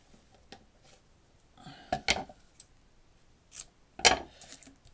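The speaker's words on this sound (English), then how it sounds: "Scissors." Several crisp snips of scissors cutting foam tape, irregular and close, with a couple of quick double cuts and faint handling rustles between them.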